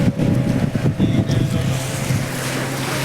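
High-speed motorboats run on the sea off Shivrajpur beach near Dwarka, giving a steady, loud engine and water rush with heavy wind buffeting the microphone throughout.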